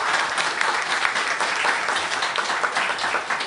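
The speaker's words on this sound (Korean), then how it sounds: "오늘 귀한 말씀 주신 서화숙 기자님께 큰 박수 부탁드립니다." A lecture audience gives steady, dense applause for a journalist's talk, many hands clapping together in a continuous close wash with no break.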